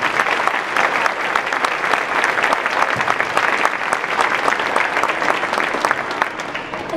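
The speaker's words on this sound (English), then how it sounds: "so a round of applause for them" A school winter concert audience applauds steadily and loudly, dense clapping from a large crowd filling the hall without pause, with no voices standing out.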